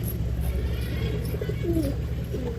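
Homing pigeon cooing softly inside a loft, a few low murmuring coos over a steady background hum, with no talking.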